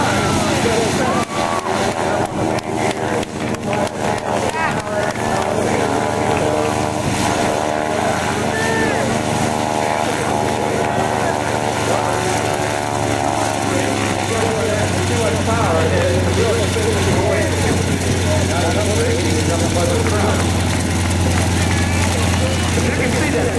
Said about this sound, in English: that big round engine, that Pratt Whitney R985, that obscures his view